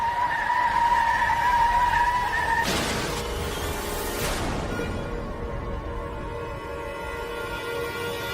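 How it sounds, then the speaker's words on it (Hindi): A car scraping and jolting over a stone while driving, with a sudden loud grinding burst lasting about two seconds after a steady engine tone, then settling into a quieter running hum. "मैडम, लगता है पत्थर से गाड़ी टकरा गई।"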